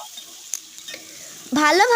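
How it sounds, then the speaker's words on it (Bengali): Tomato fries with spices in a pan, giving a soft, steady sizzle for about a second and a half. A voice then begins speaking over it. "টমেটোকে দিয়ে ওটাও যেন ভালোভাবে ভাজা ভাজা হয়ে যায়"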